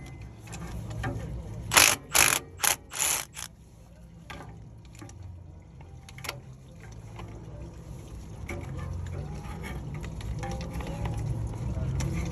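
A ratchet with a 16 mm socket and wobble extension works on a truck engine during a belt tensioner replacement, giving a few sharp clicking bursts in quick succession, then quieter handling noise while someone talks.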